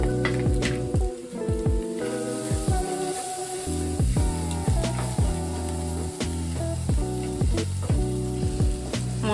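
Spices and fresh green chillies sizzle as they fry in a pan for an egg tarka, a steady hiss and crackle running throughout beneath loud background music.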